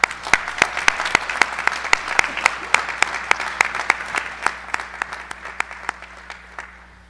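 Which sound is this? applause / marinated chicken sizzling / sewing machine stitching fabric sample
applause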